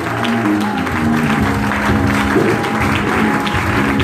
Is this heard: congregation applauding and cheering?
yes